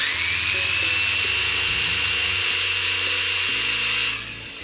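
A Kyocera (Ryobi) J6500V jigsaw runs at no-load speed with a loud, steady, high whine and a rattling hum underneath, close up, then shuts off near the end.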